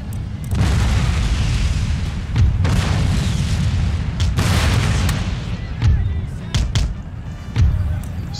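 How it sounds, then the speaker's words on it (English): Artillery in Empire Total War firing in a busy battle, with repeated deep booms and bursts rolling over a constant low rumble of combat, some blasts close and loud, others more distant. "Stop the artillery."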